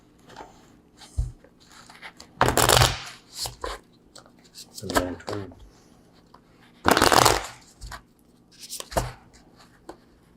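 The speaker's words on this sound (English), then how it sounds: "I'm not even going to shuffle the cards. You shuffle" Playing cards riffled and shuffled in several short bursts, close up, with pauses between and occasional quiet movement.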